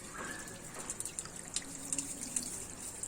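Water overflowing from the top of a water filter during backwash, a steady soft trickle with scattered drips and splashes, fairly quiet.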